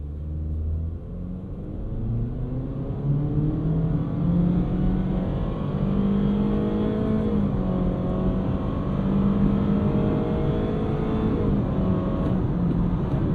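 A 2023 Honda HR-V EX-L AWD accelerating hard from a standstill to 60 in sport mode with traction control off, a steady loud engine drone with rising, shifting tones throughout, heard from inside with no talking.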